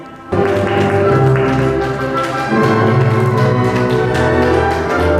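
Applause breaks out at a civil wedding ceremony in a registry office as the couple is introduced, a dense, steady clatter of many hands that starts abruptly and keeps going at an even level.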